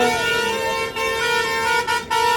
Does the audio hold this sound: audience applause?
no